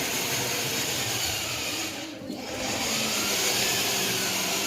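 A vehicle engine runs with a steady, loud whine and roar, dipping briefly before picking back up.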